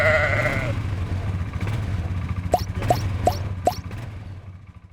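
A sheep bleats once near the start over a low engine rumble on a Scottish farm during lambing, then a series of short watery plops follows at an even pace.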